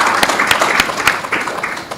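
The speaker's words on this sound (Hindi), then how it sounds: "कृपया हमारे प्रेसिडेंट के लिए तो तालियां बजा दीजिए।" An audience at a Rotary half-marathon event in Mumbai breaks into sustained applause for a club president, a dense patter of many hands clapping at even volume throughout.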